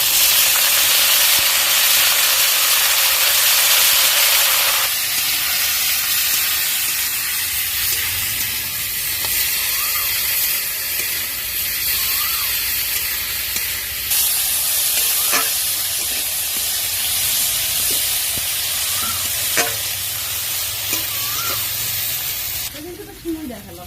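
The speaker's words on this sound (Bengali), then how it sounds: "এবার এর মধ্যে দিয়ে দেবো শাকগুলো।" Leafy greens hitting a pan of fried potatoes, a loud, dense hissing sizzle that drops in level partway through, with occasional utensil clicks and stirring under the steady frying noise.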